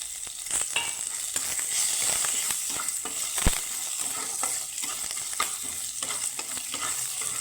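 Chana dal with four garlic cloves and curry leaves frying together in a pan, a steady close sizzle with scraping stir sounds and one sharp clack midway, no talking.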